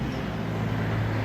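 Steady low rumble of a passing car engine beside a spring garden, continuous and fairly close, with no voices.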